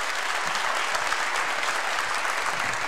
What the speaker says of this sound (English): Can you give a round of applause to Tyler Brown?